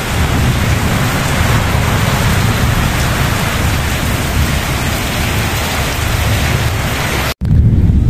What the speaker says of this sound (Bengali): দেখেন বৃষ্টি এখন আবার একটু আস্তে আস্তে পড়তেছে